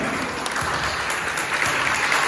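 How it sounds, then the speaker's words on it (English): Audience applause at an alumni talk event, a steady dense clapping wash that stays even and fairly loud for a couple of seconds with no voices over it. "Round of applause for the lady."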